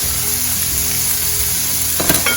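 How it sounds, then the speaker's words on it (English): Onion and garlic sautéing in butter with shrimp in a pan for keto shrimp scampi, a loud, steady, close sizzle. A brief clatter of stirring comes near the end. "I'm going to add my onion and my garlic"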